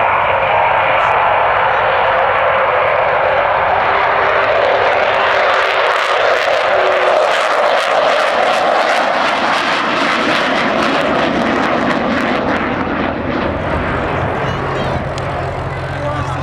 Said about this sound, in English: the noise there coming from four Rolls-Royce Bristol Olympus engines